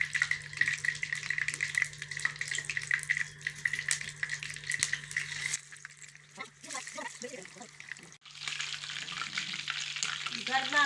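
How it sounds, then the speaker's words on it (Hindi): Fish frying in hot oil for Lahori fried fish gives a steady, close sizzle with bubbling and crackle, easing briefly partway through before resuming, with someone talking over it. "गर्मा गर्म तेल में जल्दी जल्दी फ्राई मछली हो रही है।"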